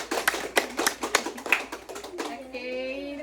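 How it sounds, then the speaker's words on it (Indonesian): A small audience at a workplace health-education session gives a brief burst of sharp, separate hand claps, close and uneven, which fades as a voice begins speaking. "Oke, beri aplaus pada"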